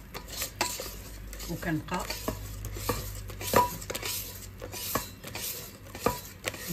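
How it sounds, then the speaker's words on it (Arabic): Hand whisk mixing walnut cake batter in a bowl, with repeated close clinks and scrapes in an uneven rhythm, partly under a speaking voice. "غادي ناخذ الطراب اليدوي"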